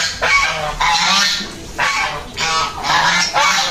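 White domestic geese honk loudly in a run of harsh, repeated calls, several overlapping bursts close by as the flock comes out of its shelter.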